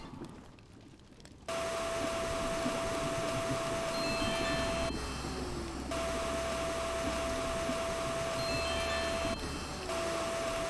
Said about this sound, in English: Maybe use the vacuum to clean it up.